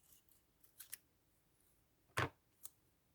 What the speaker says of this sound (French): Je suis pas très à l'aise avec ces mini ciseaux là